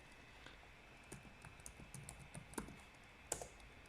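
Quiet, rapid keystrokes tap on a computer keyboard as a passphrase is typed in, soft irregular clicks with no talking.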